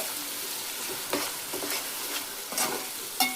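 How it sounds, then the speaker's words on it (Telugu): Ginger, garlic and dry coconut paste frying in a pot for chicken biryani, a close steady sizzle broken by several rhythmic stirring scrapes of a spoon against the pan. "ఇప్పుడు ఇందులో అయితే అల్లం వెల్లుల్లి ఎండు కొబ్బరి పేస్ట్ అయితే వేస్తున్నాను. ఇది కూడా ఫ్రై అవ్వనివ్వాలండి."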